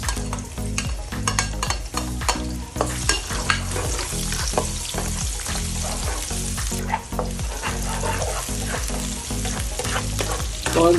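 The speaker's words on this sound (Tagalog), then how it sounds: "manggigisa ang bawang at sibuyas" Garlic and onion sautéing in a hot pan, a steady loud sizzle with scraping stir strokes running throughout and no talk.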